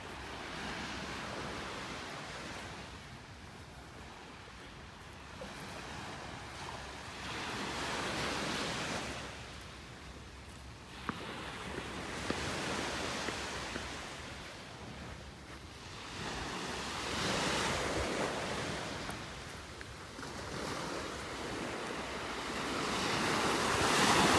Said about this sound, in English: Love listening to the waves here